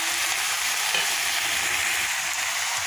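A large wok of vegetable curry being stirred, a steady broadband scraping and sizzling hiss that stays even and close throughout, with no talk.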